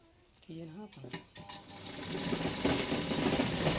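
A sewing machine stitches a pattu langa jacket, starting after a woman's short speech and building into a steady, rapid mechanical rattle that grows louder toward the end.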